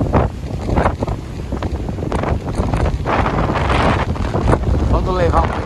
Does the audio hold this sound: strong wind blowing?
yes